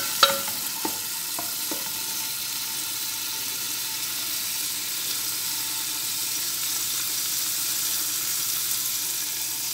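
Onion and tomato frying in a pan, giving a steady, close sizzle throughout with a few light scrapes of stirring near the start.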